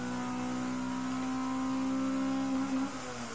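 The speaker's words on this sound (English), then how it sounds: "I just love Hondas with a proper exhaust. This has a spoon copy muffler or something like that." A Honda Civic SiR with a B16A engine and a Spoon-style copy muffler holds a steady, high, whining rev near the microphone, then drops off with a brief rough burble and a sharp bump at the end.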